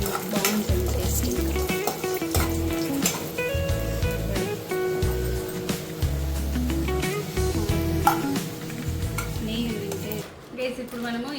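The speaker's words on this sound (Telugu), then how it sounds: "డ్రై ఫ్రూట్స్ వేయించుకోవాలి" Dry fruits and almonds frying in a pan for rava laddu, a loud continuous sizzle with repeated stirring scrapes and clinks of a spoon against the pan.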